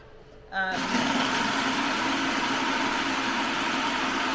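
A blender pulses cookies into crumbs, a loud continuous motor whir starting abruptly after a brief quiet moment and holding steady, close up, with no talk.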